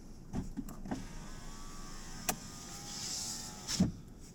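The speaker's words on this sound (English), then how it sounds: "On this particular model, it goes up and down automatically on just one press, but it only does it on the driver's side." An electric driver's window on a 2018 Dacia Duster runs up and down in one automatic press, giving a near motor whine with soft clicks and thumps at each end of travel, no talking.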